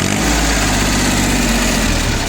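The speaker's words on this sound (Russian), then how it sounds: "Работает трактор достаточно ровно, без проблем." Mitsubishi MT1401 tractor engine running steadily, a loud close continuous idle with a dense low throb and even vibration throughout.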